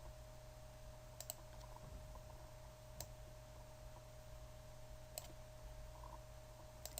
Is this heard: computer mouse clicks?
yes